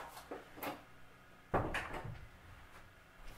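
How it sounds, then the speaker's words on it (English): An indoor door shut at home, with a couple of faint knocks and handling sounds first, then one sharp close at the middle followed by a short rattle and quieter settling. "Rambo, let me shut my door"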